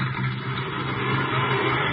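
A car engine runs steadily with a low hum and mild revving, carrying on throughout without a sharp start, close and moderately loud.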